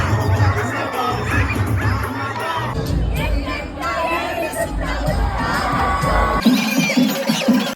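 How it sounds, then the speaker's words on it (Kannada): A large crowd at an RCB cricket match shouts and cheers continuously, with excited yells and chatter rising and falling in a loud, dense roar. "ನಮ್ಮ RCB ಮ್ಯಾಚ್ ಇದ್ದಿದ್ದರಿಂದ ಕ್ರೌಡ್ ಕೂಡ ಹಾಗೆ ಇತ್ತು"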